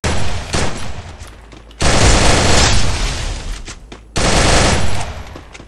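Bursts of automatic gunfire in Counter-Strike, loud and close, with a short volley, a long sustained burst and another heavy burst near the end, separated by quieter gaps.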